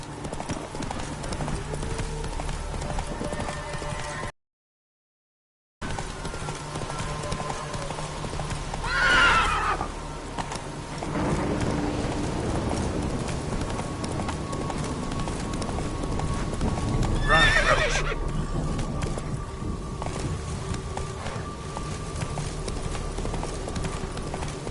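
Roach, a horse in a video game, gallops with rapid rhythmic hoofbeats throughout and lets out two loud whinnies partway through, with a brief dropout early on.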